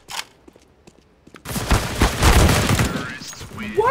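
Gunfire bursts out in a Counter-Strike: Global Offensive match: a few faint scattered shots and clicks, then a loud, dense volley of rapid shots lasting several seconds, with a voice talking over the end.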